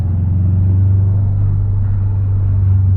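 Close, loud and steady: the deep, throaty burble of a Subaru STI engine rumbling at idle, with no voices.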